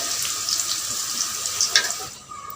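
Water runs from a bathroom tap while a father washes clothes, a steady close splashing hiss with small irregular splashes, cutting off near the end.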